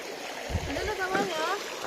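Clear water runs down a small stream, a steady close gurgle and trickle with splashing, while someone talks over it.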